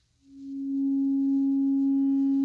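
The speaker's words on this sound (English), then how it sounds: "we should have 3 sine waves in unison" A steady pure electronic tone of three modular synthesizer sine waves in unison fades in quickly and holds at one pitch, clean and sustained with faint overtones.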